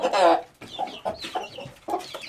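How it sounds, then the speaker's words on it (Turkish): A rooster, a breeding bird newly brought into a chicken coop, clucks close by in a short series of loud throaty calls, with no voices over it. "Evet ballı horozumuz geldi arkadaşlar."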